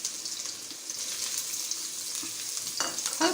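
Carrots frying in hot oil make a soft, continuous sizzle close by, with a few brief scrapes near the end.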